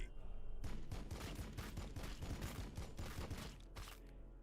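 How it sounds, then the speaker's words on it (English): Bolt rifle gunfire in Warhammer 40,000: Battlesector, fired as a rapid volley of sharp shots in a dense, steady rhythm for a few seconds before tailing off, faint overall. "I want my unit here to go 2 steps forward and then use the ability of bolt rifle"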